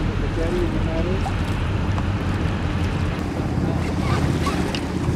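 A small boat motors out of Stromness harbour alongside a ferry, with a steady engine drone and rushing water, heavy wind buffeting the microphone throughout and a voice faintly mixed in.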